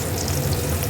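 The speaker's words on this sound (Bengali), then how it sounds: "ওই তেলেই আমি কালো জিরে ফোড়ন দিয়ে দিলাম, একটু কাঁচা লঙ্কা ফোড়ন দিলাম" Black cumin seeds and green chilli sizzle steadily in hot oil left from frying brinjal, a dense continuous crackle with no talk.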